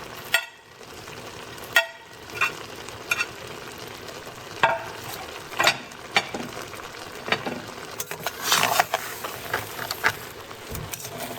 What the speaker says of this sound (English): now as you see it's boiling and to add all the green onion